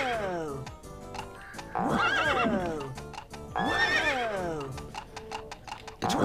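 A horse in the Lego Island 2 video game whinnies loudly twice over clip-clop hoofbeats, game sound effects with a musical backing throughout.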